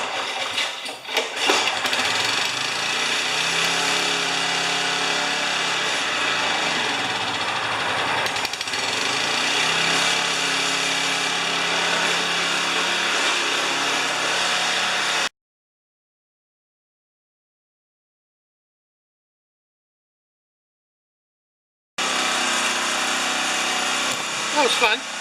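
A small lawn mower engine runs steadily at close range with a rough, pulsing drone, cuts out abruptly into silence, then starts running again.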